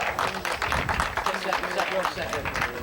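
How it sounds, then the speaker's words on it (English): Spectators at a Formula Ford 2000 race at Willow Springs Raceway clap for race winner Vince O'Leary, a scattered round of hand claps heard under an announcer talking over a public-address system. "Nice round of applause for O'Leary here"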